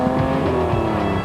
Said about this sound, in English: You love the adrenaline rush of a powerful V6 engine.